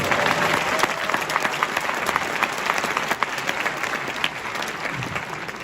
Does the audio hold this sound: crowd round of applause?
yes